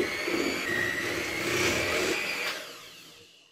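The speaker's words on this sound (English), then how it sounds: "You just want to blend it till it's well mixed together." An electric hand mixer whirs steadily through thick chocolate donut batter, a loud continuous motor drone that shifts pitch slightly midway and fades out at the end.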